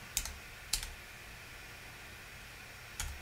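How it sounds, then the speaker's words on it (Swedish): A few isolated key presses on a computer keyboard while working in Premiere Pro CS6, three sharp, faint clicks spaced apart against a quiet background hiss. "Trycker jag två gånger på L, det vill säga framåt-knappen, så fördubblar jag hastigheten."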